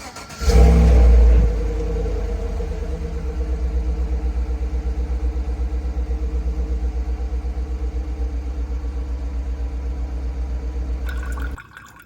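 A Chevrolet LTZ on its factory exhaust cold-starts with a loud burst of cranking and revving, then settles into a steady, deep idle rumble that runs for about ten seconds before cutting off; nobody speaks.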